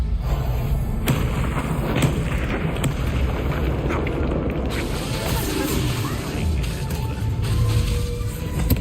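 A Confringo blasting spell exploding in Hogwarts Legacy, loud heavy booms with sharp cracks over a constant rumble that lasts throughout.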